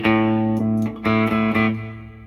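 An electric guitar plays through a 1965 Epiphone Pacemaker amp with a Kendrick speaker and light reverb: a few sustained chords re-struck in a loose rhythm, warm and full, close and alone.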